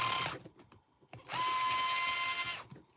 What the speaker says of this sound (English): I'm just going to loosen this off on the chassis